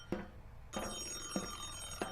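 A telephone rings inside a video game set at a movie studio: a quiet bell that trills three or four times at regular intervals, with no voices over it.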